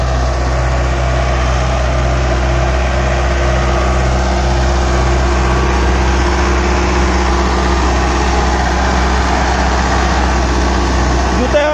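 Mahindra Arjun 605 tractor engine running steadily while pulling a rotavator in a field, a loud constant low drone with a droning hum, no clear change in pitch.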